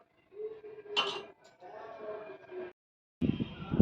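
Cups and spoons clinking while tea is made, a couple of bright clinks among soft handling noises and a brief murmur of voice, ending in a louder rustling burst.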